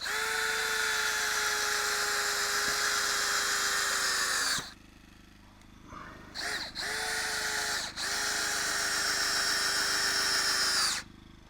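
A power drill drives screws into a sawmilled 4x4 post for a pig corral wall. It gives a loud, steady whine for several seconds, stops briefly, gives two short blips, then runs again at length.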